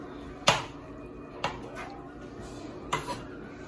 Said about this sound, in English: So now I'm chopping my chicken in little pieces